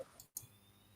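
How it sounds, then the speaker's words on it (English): A few sharp, quiet keyboard key clicks, one near the start and another after a brief silent gap, then faint room hiss, heard alone without talk. "the sound of the keys"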